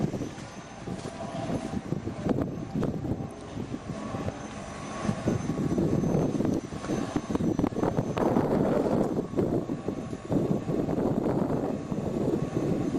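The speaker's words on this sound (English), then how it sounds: "Just basically like someone stepping on the gas, off the gas, on, on. You can hear it, obviously." The engine of a defective Ford Maverick Hybrid is heard close at the tailpipe, a rough rumbling exhaust that rises and falls as it surges, growing louder and steadier in the second half.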